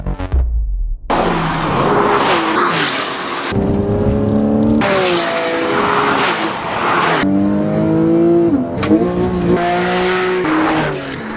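A 2012 Porsche 911 Carrera's direct-injection boxer engine revs hard through repeated gear changes on twisting mountain roads, pitch climbing and dropping with each shift, loud and close, with no talking.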